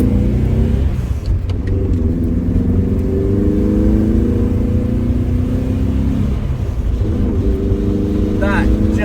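A 1983 Alfa Romeo Alfasud 105 ti with a boxer engine drones steadily from inside the cabin while driving, a low, throbbing note that shifts pitch slightly as the car pulls, with someone talking over it.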